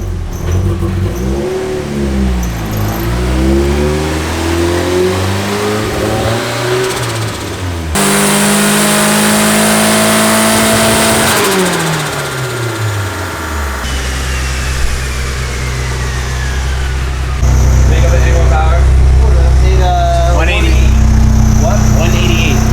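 A turbocharged Nissan S14 engine revs hard and repeatedly on a dyno, rising and falling in pitch with loud roaring pulls, after a misfire-like breakup and new spark plugs, while people talk intermittently over the noise.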